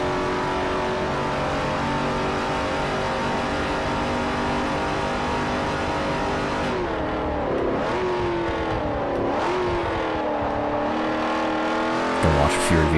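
A heavy race car's engine holds full throttle through a speedway turn in Forza Motorsport 4, a loud, steady, close drone whose pitch dips and recovers several times near the end.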